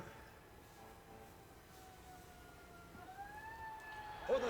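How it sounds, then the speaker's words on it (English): An ambulance siren outside a window wails faintly and distantly, its rising and falling tone drifting over a low background hum and swelling slightly toward the end. "I don't know if you can hear that ambulance outside my window,"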